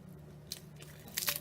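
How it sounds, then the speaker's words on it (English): Thin crispy snacks eaten loose in a kitchen give a few quiet, close crunches and bites, with sharper crackly bursts near the end. "I like that they crunch more when you eat them loose"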